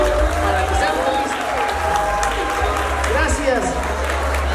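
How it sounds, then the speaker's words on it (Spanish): Guests at a wedding party applaud in a dense, steady round of clapping mixed with crowd murmur and overlapping voices, with a low hum running underneath. "Merece que todos tengamos un aplauso para que sean felices"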